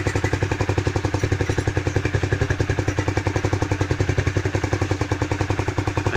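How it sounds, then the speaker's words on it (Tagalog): Rusi Classic 250 motorcycle with a modified stock exhaust idles steadily up close, its loud, even thumping pulses running unbroken throughout. "Yung kapag may silencer, ito kapag wala, parang lumuwag yung tunog nya, diba?"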